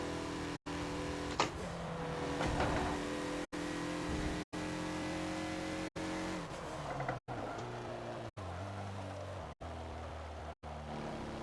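The 2014 Mazda Lola B12/80 race car engine howls around the VIR circuit in Forza, revving hard and climbing through the gears with brief cuts at each shift, loud and continuous throughout.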